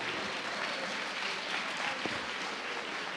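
Steady applause from a church congregation, a dense wash of clapping that holds at an even moderate level throughout.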